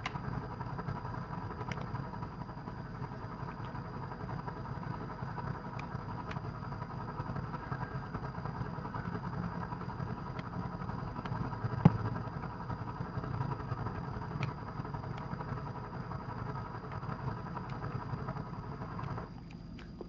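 A GTA 5 ATV engine idles and runs steadily throughout, with a low, even mechanical drone, moderately loud and alone, plus one brief sharp click near the middle.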